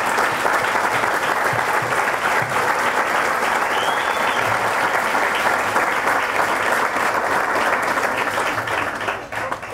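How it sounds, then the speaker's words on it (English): A banquet room audience gives a big round of applause for honored young quarterbacks, sustained dense clapping that holds loud and even for several seconds before easing slightly at the end. "let's start out by giving all the young men in this room that earned the honor to be here tonight a big round of applause"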